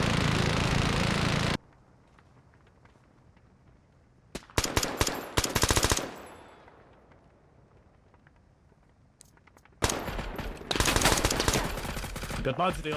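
Gunfire in the video game Squad, with bursts of automatic fire coming in separate volleys, loud and near, broken by quiet gaps.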